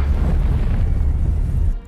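Deep rumbling explosions roll across Gotham city in a Batman film, a loud sustained boom with no talk.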